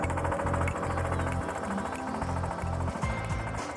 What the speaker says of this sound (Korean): 옛날부터 돌을 다듬을 때 썼던 나리선 도드락 망치로 돌의 표면을 곱게 다듬는 공정